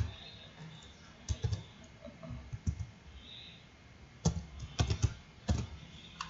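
Keys clatter on a computer keyboard during a data-scraping software walkthrough, with irregular bursts of clicks and short pauses, close and moderately loud with no talk.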